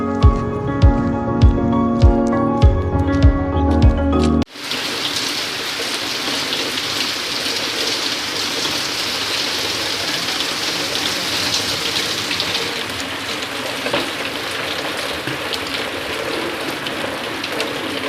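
Music plays briefly, then cuts to steady, dense monsoon rainfall pattering on surfaces at sowing time on farmland, continuous and fairly loud to the end.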